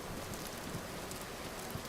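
Steady rain hisses evenly in a survival crafting game, a continuous dense patter with no breaks.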